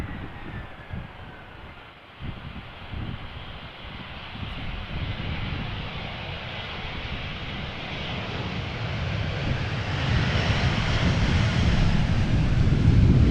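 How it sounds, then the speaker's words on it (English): A Vueling Airbus A320 arriving at Amsterdam Schiphol in crosswind conditions, its engine roar swelling steadily louder as it approaches, with wind buffeting the microphone and no speech. "And we got another Vueling A320 behind it."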